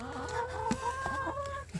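Hens in a backyard flock cluck and murmur in a close, steady run of short calls, with soft taps of pecking on a chipboard surface underneath.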